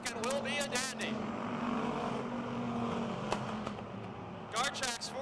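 Race cars at Motordrome Speedway roaring single file down the back straight, a sustained loud engine drone with revving cars passing, under a commentator's voice at the start and end.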